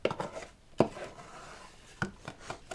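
A spatula scrapes a graham wafer and butter crumb mixture out of a mixing bowl, giving a few short, close scraping and tapping strokes with quiet gaps between them.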